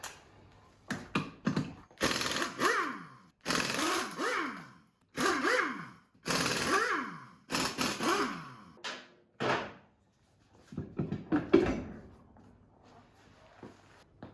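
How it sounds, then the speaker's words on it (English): An impact wrench removing a rear wheel from a 1981 Pontiac Firebird Trans Am. Around half a dozen loud rattling bursts, each winding up and then dropping off, separated by short pauses, followed by quieter clanks and handling noises. "it's time to get out the rattle gun"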